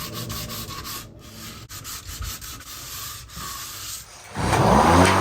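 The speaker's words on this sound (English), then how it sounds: "I finished the exterior sanding by hitting all of the detail work on the top half of the door" Old pilling polyurethane is sanded off the detailed top half of a wooden front door outdoors, a steady close rasp of abrasive on wood, briefly pausing before a louder, rougher stretch at the end.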